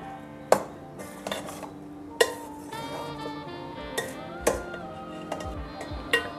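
Metal spoon scraping and clinking against a pot while mango pulihora (mango rice) is stirred and folded from the bottom, with irregular sharp taps and softer scrapes and no talking.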